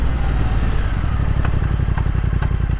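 A 2022 Triumph Speed Twin motorcycle engine running close and loud, a steady throbbing low rumble with a few sharp ticks over it, no voices.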